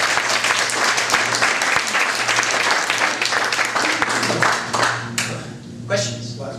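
A conference audience gives a warm round of clapping for the event organizers, dense and loud at first, then tapering off and fading toward the end as a voice starts up.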